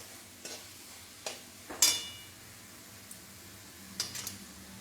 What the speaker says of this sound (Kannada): ನೋಡಿ ಚೆನ್ನಾಗಿ ಫ್ರೈ ಮಾಡ್ತಾ ಇದ್ದೀನಿ.